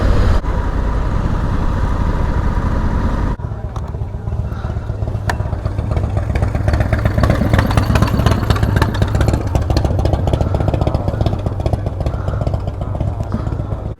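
A motorbike engine runs steadily throughout, loud and close, as the rider pulls forward through a town street in Willemstad to park beside two other bikes; the tone shifts slightly after a few seconds as it slows.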